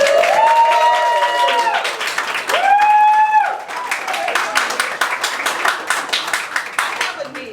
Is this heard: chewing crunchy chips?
no